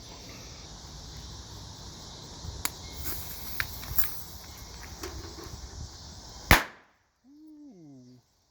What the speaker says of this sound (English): Today we have Hand Grenade by Black Scorpion Fireworks. It's a pull string grenade.